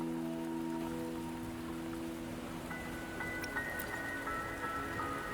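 Rain falling in the video game Wuthering Waves, a steady soft patter on surfaces that continues throughout, layered with sustained tonal game music and no voices.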